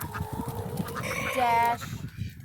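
A backyard flock of chickens squabbling over treats, with excited squawks and bleating-like calls close by and a pitched cry rising in the middle, as a voice speaks briefly.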